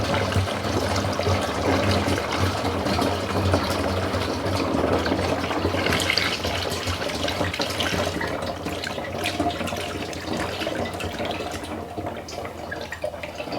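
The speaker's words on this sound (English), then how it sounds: "To dispose of the used oil, I'm going to pour it into a container" Used motor oil from a Corvette oil change, done with Kirkland Signature full synthetic, pouring and draining steadily into a container, a continuous close liquid splash and trickle with no talking.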